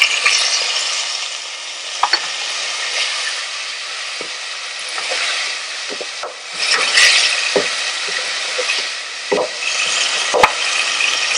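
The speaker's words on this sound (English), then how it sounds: "Now I'm adding the chopped tomatoes." Chopped tomatoes go into hot oil in a frying pan for an aloo samosa filling, giving a loud continuous sizzle with scattered clacks and spoon stirs and no talking.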